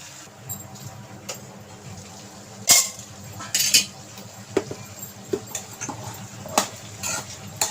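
Potatoes frying with a sprinkle of turmeric in a pan, stirred with a metal spoon: irregular scraping clinks and taps against the pan over a low background, close and moderately loud.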